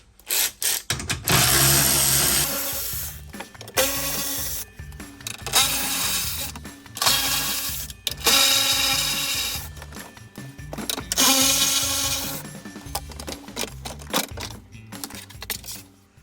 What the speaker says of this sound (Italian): Vado a rimuovere la paratia, cricchetto con chiave da 10.